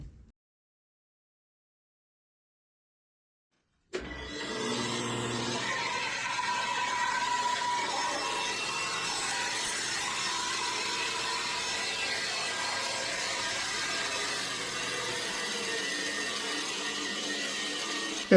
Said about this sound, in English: I told you it'd make more sense when I cut it out on the bandsaw